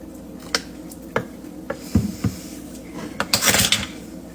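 Sour cream is spooned into a dish with light clinks and taps of a spoon against the bowl, several sharp separate knocks followed by a brief cluster of scraping clatter near the end.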